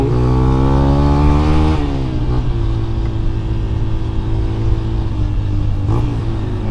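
A Verza 150 motorcycle fitted with a Tiger aftermarket exhaust revs loudly up close, the engine climbing then dropping back to a rough, throbbing idle, with a brief blip near the end and no talk.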